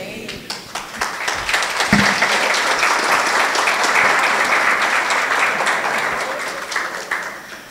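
Sustained audience applause filling a church hall at the close of a family-weekend talk, dense and steady for several seconds, rising after a brief start and slowly tapering, with faint voices mixed underneath.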